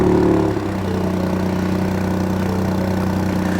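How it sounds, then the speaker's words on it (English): A Ford Fiesta ST idles steadily after startup, its exhaust giving a low, even drone with a slight dip just after the opening half-second, close and loud with no talk. "Show us the startup for the exhaust."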